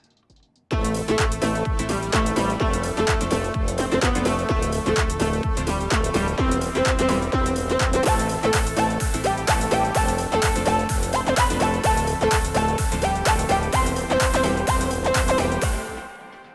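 A looped, swung drum groove with punchy kicks and sharp claps over layered synth chords, playing steadily with no voices.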